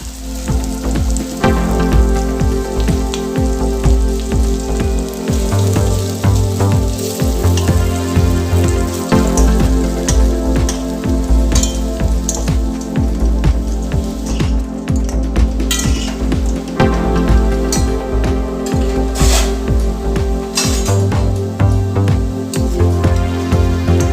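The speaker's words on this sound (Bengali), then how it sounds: "তেলটা গরম হয়ে গেছে এখন আমি বড়াগুলো ভেজে নেব" Pea lentil fritters fry in hot mustard oil, giving a steady, dense crackle and sizzle that runs continuously and close, with faint low clinks of a pan underneath.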